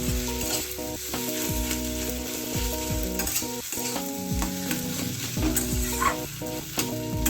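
Potato mixture for aloo chop is stirred in a pan over low gas, with steady scraping and stirring strokes and a soft sizzle running continuously up close, no voices.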